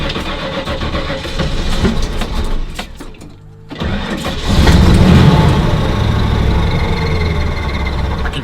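A Ford Thunderbird coming out of storage cranks for a few seconds, goes briefly quiet, then fires up into a loud, steady idle that stays close and fills the rest of the clip.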